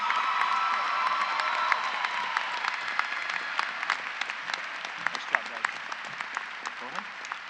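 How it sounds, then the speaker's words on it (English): Applause for graduating students at the Gig Harbor High School 2022 graduation, with a large crowd clapping steadily over a muffled murmur of voices and a few scattered cheers. The applause fades gradually over about seven seconds, and some individual claps stand out near the end. "Please join me in giving them another big round of applause as they sit down."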